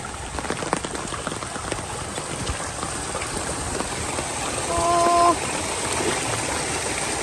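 Heavy rain pours down on rice fields in a storm, a dense, steady hiss of drops close by that continues throughout, with a brief louder swell near the end.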